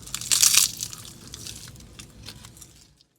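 Someone bites into an onigiri rice ball wrapped in dry, crisp seaweed, giving one loud close crunch followed by softer crackling chews that fade out.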